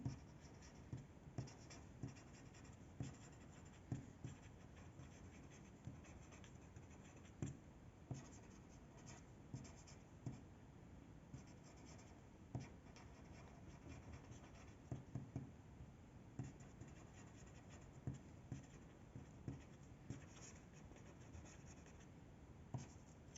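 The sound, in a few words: writing notes by hand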